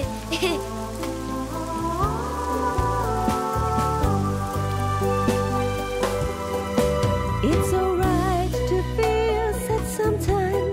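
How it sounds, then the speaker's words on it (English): Cartoon rain pattering steadily under bright, tonal background music, the patter blending with melodic lines throughout. "I want to go for a walk, but look, it's raining."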